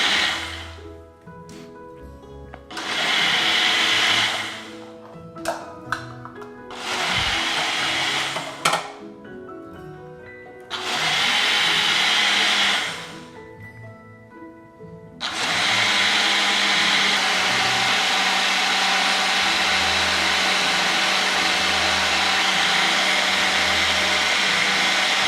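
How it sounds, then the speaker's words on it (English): Blender running loudly in short bursts, then a sustained long blend, mixing a green smoothie made with almond milk; strong whirring motor noise alone with no talk. "we will put it on the blender, and we'll give it about 50 seconds for this."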